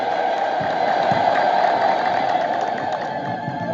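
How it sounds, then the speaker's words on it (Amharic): A crowd ululating at an Orthodox church celebration for Sene Mikael, a steady dense high trill of many voices sustained throughout with light cheering mixed in. "ጨምሩበት፣ እልልታው ጨምሩበት።"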